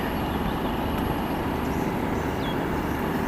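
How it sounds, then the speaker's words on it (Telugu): Steady low rumble of a goods train at a railway station on the way to Bangkok, continuous and fairly loud with broadband rail noise and no talk. "ఇదిగోండి గూడ్స్ ట్రైన్"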